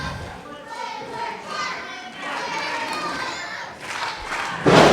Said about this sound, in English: This crowd in McMecken trying to rally behind the Wayward Sons here.